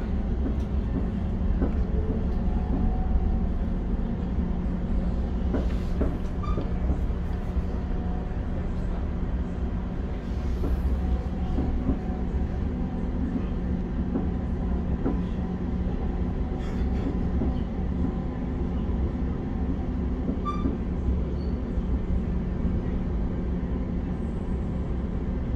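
An Arriva Rail London Class 710 electric train runs between Barking and Gospel Oak, a steady loud rumble and hum from inside the carriage with faint clicks of the track throughout.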